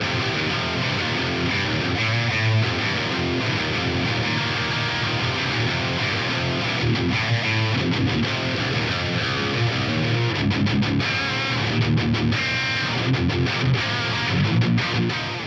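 A dense, continuous distorted electric guitar through an Axe-Fx III amp modeler with a Dynacab cabinet IR plays chords and riffs at steady loudness, heavily overdriven with a full amplified cabinet tone, no voices.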